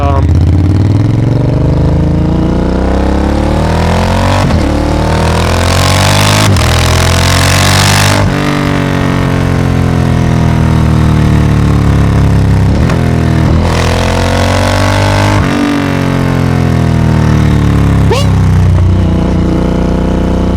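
A 2025 Triumph Speed Twin 1200 RS engine fitted with a full-system exhaust, loud and close, rising and falling through repeated revs and gear changes as the motorcycle rides, with wind rush throughout.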